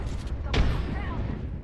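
Grenade blast in Apex Legends, a single sharp close boom that cuts in suddenly and then rumbles and decays over the next second amid game noise.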